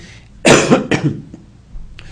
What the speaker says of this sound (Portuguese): então me desculpem alguma tosse eventual